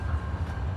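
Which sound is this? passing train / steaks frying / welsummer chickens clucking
passing train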